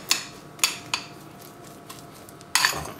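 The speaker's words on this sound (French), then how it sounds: "On mélange tout ça, on écrase le jaune." A fork clinks against a bowl while mashing hard-boiled egg yolks: three sharp taps early on, soft scraping in between, then a louder rattling scrape at the end, close up.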